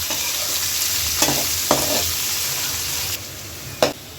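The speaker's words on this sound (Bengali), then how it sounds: "এখন দিয়ে দিব পেঁয়াজ কুচি। পেঁয়াজটা বাদামি কালার করে ভেজে নিব।" Chopped onion frying in a pan with pork and jackfruit, a steady hiss broken by a few sharp stirring scrapes, close and alone.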